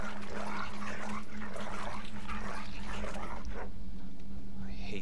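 A dog in a Game of Thrones video game barks and whimpers over a steady hum and liquid-like noise, with a voice talking alongside.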